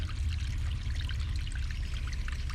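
Water flows from a pipe into a canal in a continuous, close, rushing pour with a deep low rumble and splashing on top, steady and unbroken, no voices.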